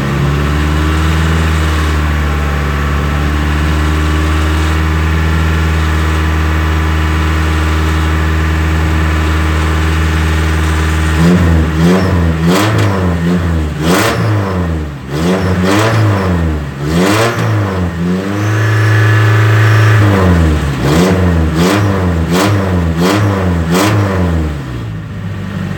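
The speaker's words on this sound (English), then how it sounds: "I can hear the noise right about right there, about 2200 RPM." Truck engine idling loudly, then revved repeatedly to about 2200 RPM in several rising and falling sweeps, close and strong, with no talking.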